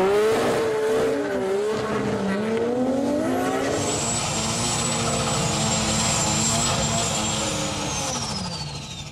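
A Nissan GT-R street drag car at HKS Street Drag 2001 at T.I. Central blasts through the gears at full throttle, its engine pitch repeatedly rising and a high whine sweeping upward, loud and sustained before fading slightly.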